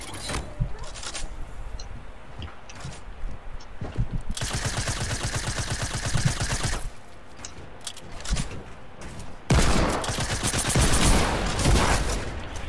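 Rapid automatic gunfire in Fortnite Battle Royale comes in two long, loud, close bursts with scattered single shots and game noise between them.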